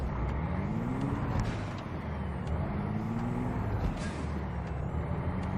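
Truck engine and air brakes in American Truck Simulator, a steady low engine drone with rising and falling whine and short hissing brake releases near the cab, no talk.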